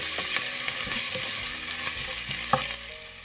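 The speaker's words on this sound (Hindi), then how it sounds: "अब हम इसमें जो है वो अदरक लहसुन का पेस्ट डालेंगे और इसको तकरीबन 2 मिनट के लिए" Ginger garlic paste frying with onions in a pan, a steady close sizzle with occasional clinks and scrapes from stirring, no voices.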